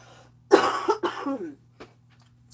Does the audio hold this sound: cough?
yes